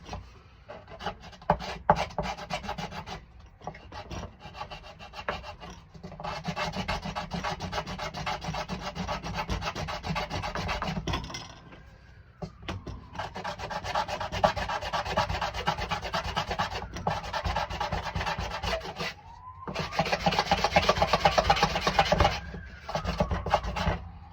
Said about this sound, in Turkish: Çünkü artık diyor ki zımpara ben omurgaya değiyorum.